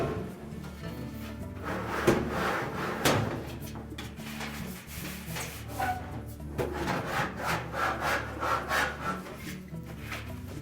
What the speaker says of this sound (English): Now we can lift the drum out of the rear bearing. It's a little snug coming through the front of the cabinet.